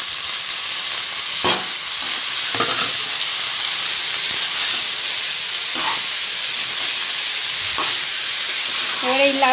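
Chopped tender bottle gourd tipped into a pan of lightly frying ginger gives a loud, continuous hiss and sizzle, with a few sharper bursts and scraping stirs along the way, and no voices.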